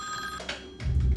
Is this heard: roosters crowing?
no